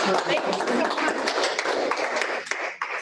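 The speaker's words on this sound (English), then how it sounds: "One more round of applause." A round of applause at a 1 Million Cups Reno startup talk, dense steady clapping from an audience that fills the space and carries on without a break before thinning slightly at the end.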